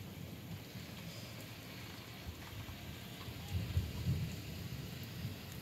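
Heavy rain pours steadily during a strong Oregon thunderstorm, with low thunder rumbling underneath and swelling briefly toward the end.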